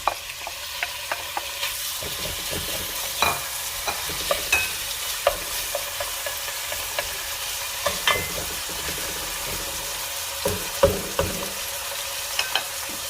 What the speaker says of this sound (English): I am going to brown my meat well. So let's hope it sizzles when I put it in here